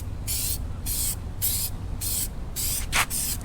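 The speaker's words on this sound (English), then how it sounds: "and then you can go ahead and start spraying" Aerosol spray paint hissing in six bursts of about half a second each onto RAM 1500 truck emblems to turn them black, close and steady over a low background hum.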